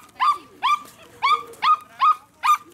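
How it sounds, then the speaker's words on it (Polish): A dog barks repeatedly at a beach in Gdańsk, six sharp, evenly spaced barks close by, angry in tone, with quiet background between them. "O, pies się zazłościł i szczeka."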